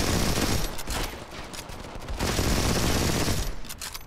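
Continuous automatic gunfire from a T5 Marauder in the Modern Combat 5 mobile shooter, loud, dense and close, with rapid bursts running almost unbroken and brief dips between volleys.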